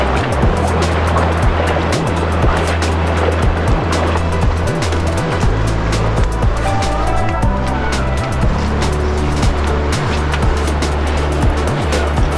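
A waterfall in Parunuweap canyon, the Roaring Water canyon, produces a loud, steady rushing roar that fills the whole stretch without pause.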